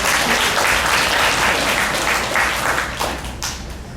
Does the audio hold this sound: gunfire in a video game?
no